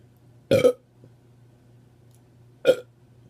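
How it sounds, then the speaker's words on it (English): Two loud, deep burps after drinking Diet Coke, about two seconds apart, close to the microphone, with only a quiet room hum between them and no talking. "So far, Diet Coke is still number one with the burps"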